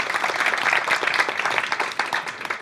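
Audience applause on a French television game show, a short burst of brisk, dense clapping that holds steady for a few seconds without any voices.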